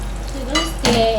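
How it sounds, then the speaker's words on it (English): Nigerian party-style meat pies fry in hot oil over low heat, a close, loud sizzle broken by brief scraping and clinking of a utensil against the pan. "So make sure you leave it to fry, and you're going to fry on a low heat as well."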